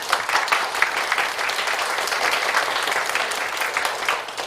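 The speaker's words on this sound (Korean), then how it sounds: "여러분들 우리 환영하면서 박수 한번 하겠습니다." A church congregation at Sunday worship claps in welcome for visiting deacons, a steady, even wash of many hands that holds at moderate loudness throughout.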